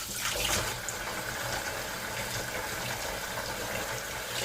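Running water rinses daikon, cucumber and carrot to wash off rice-bran pickling paste, a steady close splashing and trickling that continues evenly throughout with no talking.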